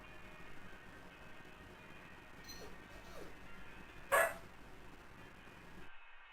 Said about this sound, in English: Yep, that's a dog.